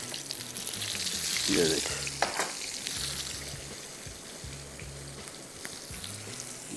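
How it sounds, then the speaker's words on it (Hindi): Parathas frying one by one in moderately hot oil, a steady crackling sizzle running throughout with a brief louder spatter early on, close and fairly loud beneath a short spoken remark. "बस एक एक करके फ्राई करते जाएंगे, निकालते जाएंगे और उसको थोड़ा क्रिस्पी क्रंची करना है।"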